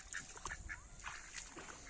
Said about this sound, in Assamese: এইটা হাঁহ